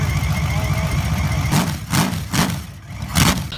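An old five-cylinder aircraft radial engine fitted to a modified motorcycle runs loud and close, its rough, throbbing idle breaking into several rhythmic revving pulses.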